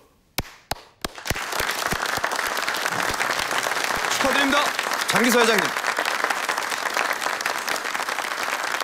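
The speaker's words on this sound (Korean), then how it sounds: "박수!" Sustained applause fills a meeting room in a Korean TV drama as members back Jang Ki-seo as chairman, starting after a few sharp claps and continuing steadily, with someone speaking briefly over the clapping.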